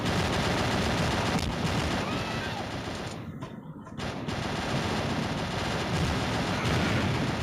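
Rapid, sustained gunfire from the Mini Militia video game plays while the character flies, a loud continuous burst of shots with a brief lull midway before the firing resumes.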